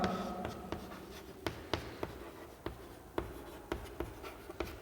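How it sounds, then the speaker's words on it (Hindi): Pen strokes on paper during a Class 9 biology lesson, a series of close, crisp scratches and taps in an uneven rhythm against a quiet background, with no talk. "हिंदी में लिख देते हैं हम"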